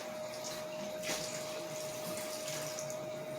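Water running from a tap into a cooking pot, about two cups poured in while preparing Jamaican turn cornmeal, a steady continuous splashing rush at moderate distance with a faint steady hum behind it.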